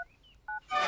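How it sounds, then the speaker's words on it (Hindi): Telephone dialing tones from a Hindi film scene, a few short electronic beeps, quiet and close, followed by a brief burst of brighter noise. "शंकर को फोन लगा।"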